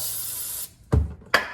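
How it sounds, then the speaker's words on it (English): A sustained hiss of an aerosol can spraying during an oil change on a 2008 Jeep Wrangler, stopping abruptly, followed by two short bumps or taps. "Give it another spray if you want."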